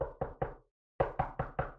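Sharp, close knocks on a door: three quick raps, a short pause, then four more in the same brisk rhythm.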